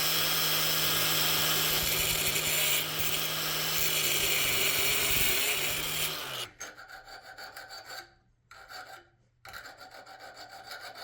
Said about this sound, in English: I'm gonna go ahead and file these areas here